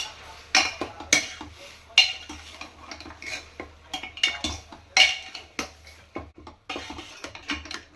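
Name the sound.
frying and stirring mutton with salt in a pot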